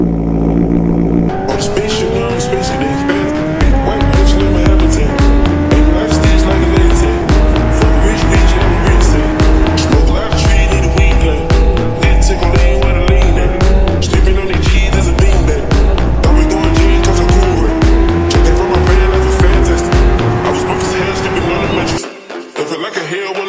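A 2024 Kawasaki ZX10R with an SC Project exhaust makes a cold start. The engine barks to life, then a loud, raspy idle holds steady with repeated blips and revs before cutting off near the end.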